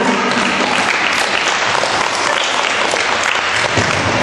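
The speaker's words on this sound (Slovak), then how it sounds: "Zatleskajme jej, krásna." Dense, loud applause from a crowd at a carnival costume contest, continuous clapping sustained for several seconds with no break.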